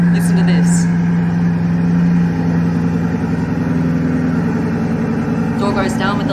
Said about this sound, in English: Time to start the engine. This is one of the best sounding Bugattis